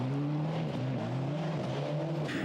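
A 1997 Ford Escort World Rally Car driving on snow, its engine loud and close, droning steadily as the revs swing up and down without a break.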